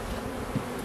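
Honey bees buzzing at a small hive, a close, steady low hum with one brief louder buzz as a bee passes near.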